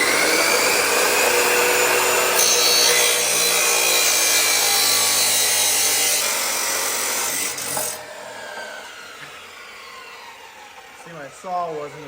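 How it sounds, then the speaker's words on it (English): A hand saw cutting through an old exhaust pipe on a Cadillac, giving steady, loud rasping strokes for about eight seconds before the cutting stops and a few quieter metallic scrapes and knocks follow. "See, my saw wasn't exactly long enough, so I had to start pulling the pipe out this way."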